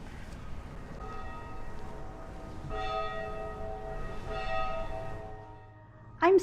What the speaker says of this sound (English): at the tolling of the church bell